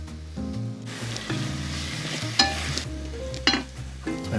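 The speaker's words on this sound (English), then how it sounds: "Now we're gonna add our jackfruit." Jackfruit hitting a hot pan with shiitake mushrooms and onions, a steady close sizzle with stirring scrapes and a couple of sharp clinks against the pan.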